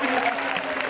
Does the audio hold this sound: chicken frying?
no